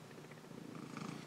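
A cat purrs close by in a quiet room, a faint, steady rhythmic rumble with no voices.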